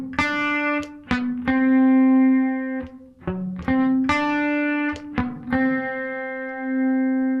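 Electric guitar plays the riff from a song as a lesson demonstration, with distinct picked notes ringing out over a sustained low tone in a clear, close, steady rhythm, no talking.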